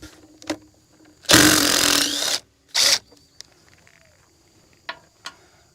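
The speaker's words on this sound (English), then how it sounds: "How about that for a little DeWalt? Struggled on that one." A small DeWalt power tool driving out a short bolt while a 2000 Freightliner Classic truck is stripped, giving one loud, roughly one-second burst of whirring and a shorter second burst, separated and followed by faint clicks and knocks.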